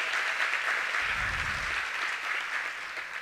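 Audience applause fills a large hall at a Latina leadership awards ceremony: steady, dense clapping that holds for the whole stretch, with a brief low thump partway through and no voices on top.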